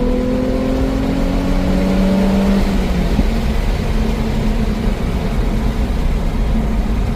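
Nissan 350Z V6 with a modified exhaust line revving briefly, the engine note rising then dropping off within the first few seconds before settling into a low, steady rumble; loud and near, no talk.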